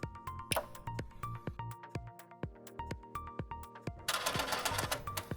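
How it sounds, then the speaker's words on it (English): A Sawgrass Virtuoso SG400 printer powers on, with rapid mechanical clicks, ticks and motor whirs in an uneven rhythm, ending in a louder whirring rush, close and alone. "You may now turn on your printer."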